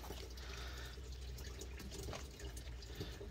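Water trickles and gurgles steadily into the body of a 1967 Amphicar during a leak test, a faint, continuous splashing fill with no voices.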